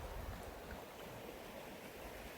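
Water rushes steadily beneath a stand-up paddleboard where a creek flows into Sugar Pine Reservoir, a close, even wash of flowing water filling the whole stretch with no voices.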